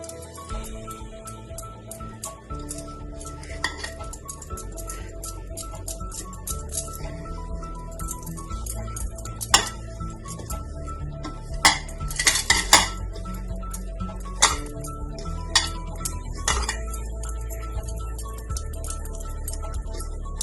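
Flour being mixed with melted desi ghee in a bowl for balushahi dough, giving steady scraping and stirring with repeated clinks of a utensil against the bowl, close and fairly quiet, with no talk.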